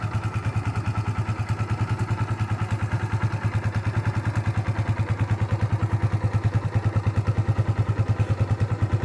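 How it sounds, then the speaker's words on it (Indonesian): A Kawasaki W175 TR motorcycle engine idles steadily with a fast, even low putter from a stock exhaust, close by and continuous, with no voices. "Per ini teman-teman, suara mesin W175."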